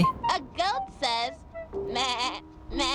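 In the video game Amanda the Adventurer, a human voice imitates a goat with a series of wavering, nasal bleats, several short cries in quick succession.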